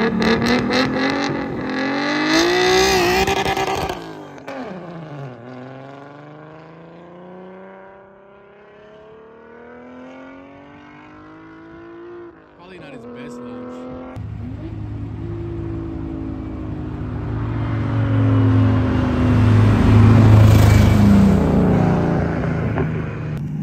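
A street Nissan GTR or big-power Toyota Supra launches and accelerates hard. The engine roars through several rising sweeps broken by gear shifts, then settles before building to a loud, sustained roar.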